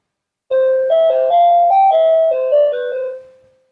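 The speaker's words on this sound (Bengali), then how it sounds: "দেখতে পাচ্ছেন এটি এখন কলিং বেল হিসেবে ব্যবহার হইতেছে" A security alarm gadget sounds an electronic calling-bell chime, a loud, clean run of stepped melodic tones that plays for about three seconds before fading out, with no voices.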